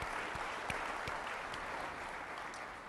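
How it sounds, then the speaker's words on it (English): Steady applause from a conference audience at a Bitcoin event session on mining in Indonesia, dense clapping that holds evenly for the full stretch with no voices on top. "Let's let them give you some applause."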